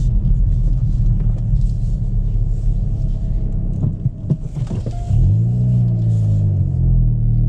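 A 2022 Hyundai i30N hot hatch during a U-turn, its engine burbling and throbbing loudly close by, dipping briefly, then surging into a deep rising rev with a booming exhaust, without talking.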